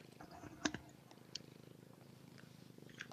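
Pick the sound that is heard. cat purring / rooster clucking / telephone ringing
cat purring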